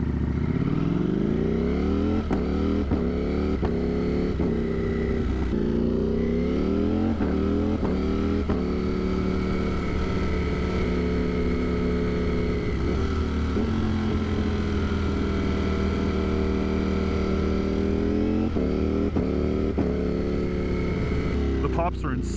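A Ducati Desmosedici Stradale motorcycle with an aftermarket exhaust roars loud and close, its engine note rising and falling through repeated throttle blips and steady cruising.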